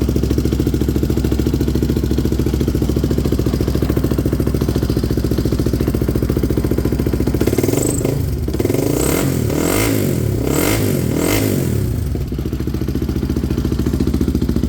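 A Polaris 450 Outlaw ATV engine runs loud and close at a steady idle, with a few rougher surges and clattery bursts partway through as the throttle is blipped.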